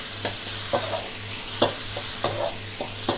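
Pounded chili and garlic dry-roasting in a pan, a steady sizzling hiss broken by sharp scraping strokes of stirring about every half-second, close by with a low hum underneath and no talking.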